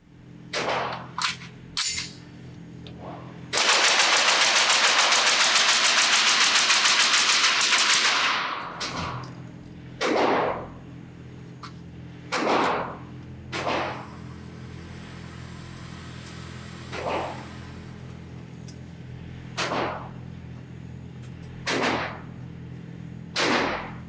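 Suppressed Sig Sauer MCX rifle shots at an outdoor range ring out as sharp single cracks spaced a few seconds apart, with one longer loud burst of noise early on and no talking.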